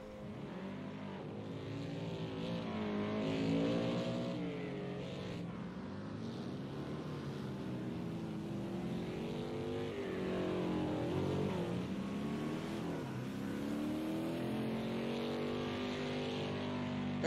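Race car engines from a video game race drone and whine without a break, with shifting revving tones as the cars speed along and one car spins out near the finish.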